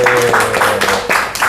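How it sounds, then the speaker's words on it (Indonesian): A studio audience claps briefly for Mas Akta, a short burst of loud hand claps with a voice sounding under them. "Tepuk tangan dulu buat Mas Akta."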